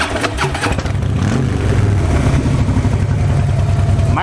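A 2013 Harley Softail Blackline motorcycle cranks with a few sharp clicks, then catches into a loud, deep, loping idle close by that settles and holds steady.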